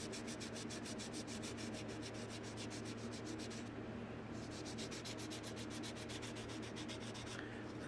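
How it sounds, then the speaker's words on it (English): Light hand sanding of primer on a car body gives a soft, steady rasping scrape with rapid repeated strokes, quiet and close, with one brief pause midway. "Now I'm just lightly sanding this too. I'm not putting any pressure on it. It's just primer."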